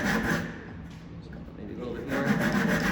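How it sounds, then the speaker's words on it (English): A small groove is cut by hand into a wooden block with steady rubbing, rasping strokes, close by and moderately loud, alongside faint workshop murmur. "I am gonna cut a little groove that goes about 1/8 of an inch or 1/4 inch down my block"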